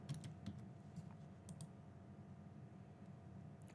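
Faint, sparse clicks of typing on a computer keyboard, a few short bursts of keystrokes over a quiet background hum.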